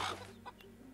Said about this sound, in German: Ein Fable, wo man keine Hühner treten kann,